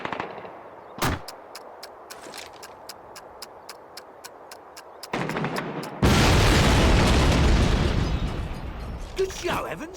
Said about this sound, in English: Evans, we need to blow up that flak gun.